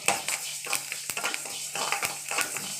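Spices with lumps of asafoetida are dry-roasted in a pan for mango pickle. Soft, irregular scraping and stirring clatter runs over a faint crackle, close and fairly quiet, with no talking.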